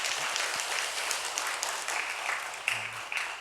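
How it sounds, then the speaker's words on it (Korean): A church congregation applauds together, steady dense clapping from many hands in a large room, sustained evenly throughout with faint voices underneath. "우리 박수 한번 하시면 좋겠습니다."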